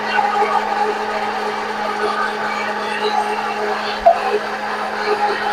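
A kitchen blender jug runs continuously with a steady whirring drone while oil is poured in a little at a time to make eggless mayonnaise from milk and oil, with one brief knock partway through.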